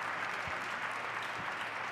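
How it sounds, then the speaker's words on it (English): A stadium crowd at a pre-season friendly between Inter and Pisa gives a sustained, dense ovation for two forwards being substituted, steady and loud with no talking over it. "So you enjoy the round of applause, the ovation for the front two."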